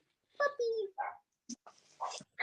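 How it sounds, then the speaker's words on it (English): A neighbour's dog barks several times in short separate yelps and whines, fairly close and clear, with pauses between the barks and no talking over them. "My neighbour's dog's barking."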